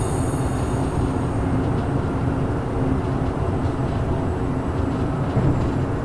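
A DB BR111 electric locomotive hauling rolling stock on the Black Forest route in a train simulator game, giving a steady, loud, continuous rumble of running gear and motor hum that holds level throughout.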